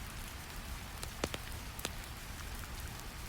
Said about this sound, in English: Rain sounds tap gently on the roof.